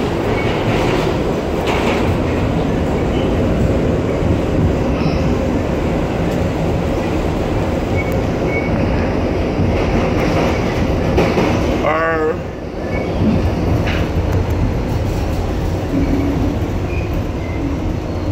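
An MTA R-62A Bombardier subway car on the New York Number 6 line rumbles loudly and continuously along the tracks, with a rising whine and steady wheel clatter throughout.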